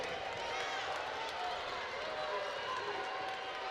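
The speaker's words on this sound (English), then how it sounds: "Listen to this crowd." A large crowd roars steadily and loudly at a college volleyball championship match between Campbell and High Point, a dense, unbroken wash of cheering and noise.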